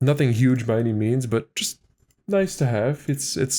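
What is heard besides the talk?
No distinct noise like a dog, phone or traffic.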